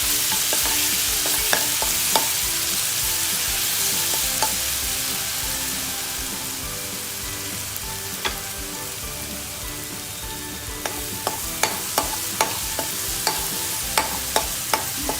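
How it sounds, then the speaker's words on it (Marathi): A coarse paste of ginger, garlic and green chilli fries in hot oil for prawn masala, making a continuous bright hiss with sharp spatters and pops that grow more frequent toward the end. "त्याच्यामध्ये आपण अद्रक, लसूण, हिरवी मिरचीची जी पेस्ट केलेली आहे भरड वाटण ते टाकणार आहोत आणि थोडंसं परतून घेणार आहोत"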